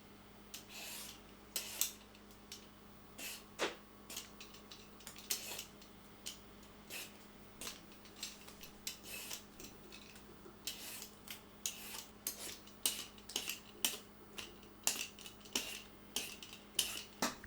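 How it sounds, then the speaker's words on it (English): Knife scraping and peeling a papaya for a Vietnamese dry chicken noodle bowl, a steady run of quiet, irregular scrapes and small clicks close by, with no talking. "Next, cut off the stem end, then peel the papaya."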